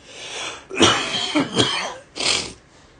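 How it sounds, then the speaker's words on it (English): Several harsh coughs in a row, close and fairly loud, with a short pause before a final cough; no talking. "Sorry for the coughing,"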